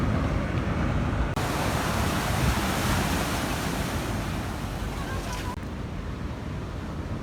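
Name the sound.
ocean waves in Puerto Vallarta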